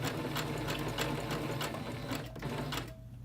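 A sewing machine stitches a buttonhole, its steady rapid needle rhythm running nearly continuously and close, then easing down near the end.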